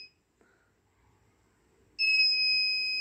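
Arduino Nano water level alarm on a smart dam gate model: after near-silence and a faint click, a loud, steady high-pitched electronic buzzer tone switches on and holds to the end.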